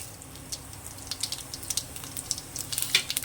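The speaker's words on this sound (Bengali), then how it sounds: "ফোড়নটা আমার লাল হয়ে ভাজা হয়ে গেছে, কারণ মাছ ভাজার তেলেই দিয়েছি, তেলটা আমার গরম ছিল" Five-spice tempering sizzling in hot oil left from frying fish, a soft steady crackle with quick popping ticks that grow busier toward the end, heard close with no talking.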